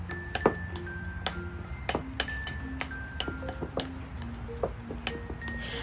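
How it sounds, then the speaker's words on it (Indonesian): A ricotta and miso filling is stirred in a bowl, giving a run of light clinks and ticks as the utensil knocks the sides, close and steady with no talk. "Aduk pelan-pelan sampai semuanya menyatu dengan manis."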